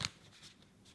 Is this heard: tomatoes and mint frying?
no